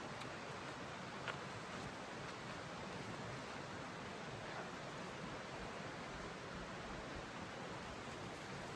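A creek at a campsite in Shenandoah Valley gives a continuous, even rush of flowing water, faint and distant, with no voices.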